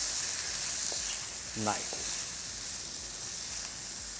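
Okra (bhindi) with spices sizzles softly and steadily in a pan, broken by a brief stirring scrape and a short spoken word.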